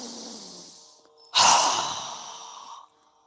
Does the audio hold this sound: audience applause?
no